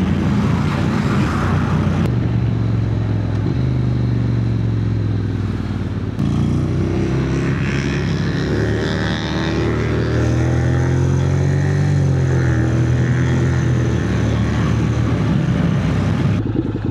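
A Honda X-ADV 750 fitted with an Akrapovic titanium slip-on exhaust idles steadily, with a continuous low engine drone that stays loud and close throughout, plus some roadside traffic and clatter.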